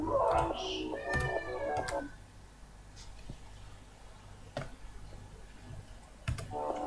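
A house cat meows near the start, a couple of drawn-out nearby cries, followed by sparse clicking and ticking taps over a quiet indoor background.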